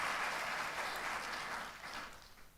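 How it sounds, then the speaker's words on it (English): An audience at a labour and productivity forum in Indonesia applauds, a soft, somewhat distant spread of clapping that holds steady and then fades out near the end. "Can we give a big round of applause for all of us?"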